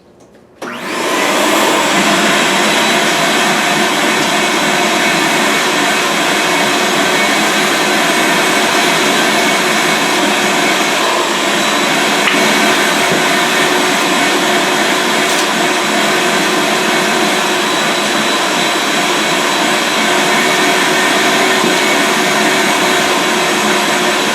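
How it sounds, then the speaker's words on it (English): A wet/dry vacuum switches on and roars steadily at close range while vacuuming a car floor mat, a loud, unbroken whine with no talking. "I'm just simply going to turn it on and vacuum this floor mat"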